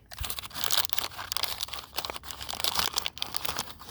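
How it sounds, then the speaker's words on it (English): A plastic bag holding replacement tail light bulbs is folded in half, giving continuous close crinkling and crunching that swells and fades over several seconds with no talking. "Folding this bag in half."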